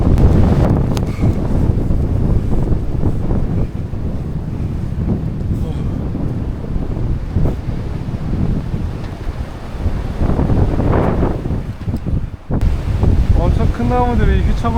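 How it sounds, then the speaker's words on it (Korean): Fierce wind roars across a Jirisan mountain ridge near Deokpyeong pass during heavy snowfall, strong enough to sway big trees. The gusts are loud and constant, buffeting the microphone with rumbling surges, and nothing else breaks through. "진짜 매서운 바람이 엄청 붑니다"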